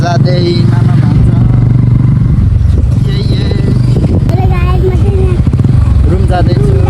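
A motorcycle carries riders through traffic on the way home, its steady engine drone and road rumble running throughout beneath people talking.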